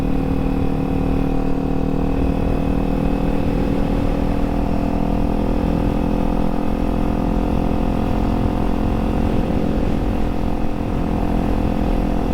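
A motorcycle engine braking as the bike glides down toward a stop, a steady mid-pitched engine drone running continuously and fairly loud with no talk over it.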